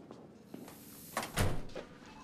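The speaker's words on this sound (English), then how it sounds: "Close the door behind you." A door is shut with a single soft thunk near the middle, preceded by faint shuffling in a quiet indoor room.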